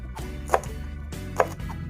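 A knife slicing oyster mushrooms on a cutting board while cooking, two distinct close chopping taps about a second apart over a low steady background hum.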